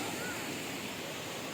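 Sea waves wash continuously at Cuddalore beach, a steady broad rush of surf mixed with wind buffeting the microphone, with no distinct breaks.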